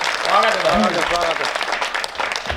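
An audience at a Hindi poetry recital claps in a dense burst of applause while a voice talks loudly over it.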